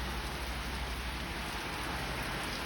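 Heavy rain pours down hard outdoors, a dense, even hiss of drops hitting surfaces. It stays steady for the whole stretch, with no voices.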